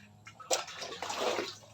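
Water is poured into pig feed on a farm, a short burst of splashing and pouring that swells and then settles into a steady rush.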